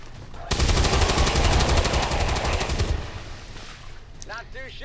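A soldier's rifle in the video game XCOM 2 opens fire, producing a loud, dense automatic burst of rapid shots lasting a couple of seconds, then a fading tail with faint electronic chirps.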